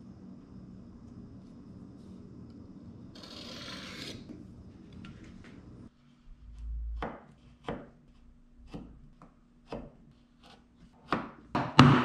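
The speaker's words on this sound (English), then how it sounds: "Once I've chiseled down both walls" A chisel chops down knifed dado walls in a wooden shop shelf board, giving a run of sharp, separate taps that follow an earlier stretch of rasping.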